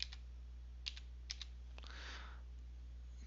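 Light typing on a computer keyboard, a few sparse, soft key clicks and taps spaced irregularly over a quiet background hum, close and faint with no talk.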